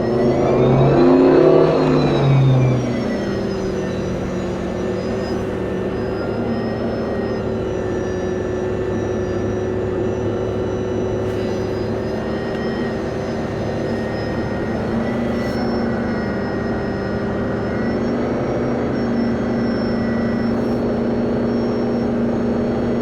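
A 2021 Moomba Makai wake boat with full ballast accelerating up to speed: a steady, loud engine drone with a rising surge at the start, then a sustained even hum without talk.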